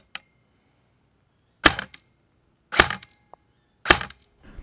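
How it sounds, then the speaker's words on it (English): Double Bell AKS-74U gel blaster selector switch being moved, giving three short, close metal-to-metal scraping clicks with a faint tick before and between them, and no talking. "The selector switch does scrape metal to metal and instantly scratched on first use."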